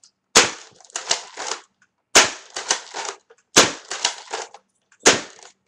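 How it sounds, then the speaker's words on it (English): Recon toy blaster shotgun fired four times at a pillow: four separate bursts, each a sharp snap followed by a quick rattling clatter of mechanism and impacts, close and fairly loud, with brief silences between them. "I'll fire the SSPB first, and now the Recon shotgun 4 times."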